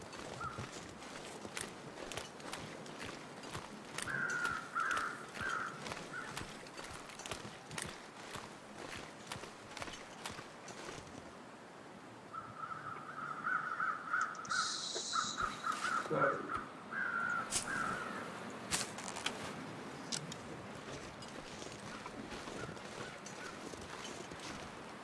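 Crows caw in the snowy wilderness of the video game The Long Dark, two bursts of several harsh calls at moderate distance, amid crunching footsteps and wind.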